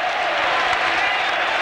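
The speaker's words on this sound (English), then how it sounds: "And so tonight they're cheering Scott." A stadium crowd cheers at a 1983 State of Origin rugby league match, a dense, loud roar of many voices and applause that holds steady throughout.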